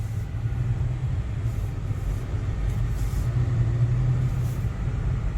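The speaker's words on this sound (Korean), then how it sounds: "투싼 주행 영상입니다." Steady low engine rumble and road noise from inside a moving Hyundai Tucson 2.0 diesel SUV, continuous and even throughout, with no talking.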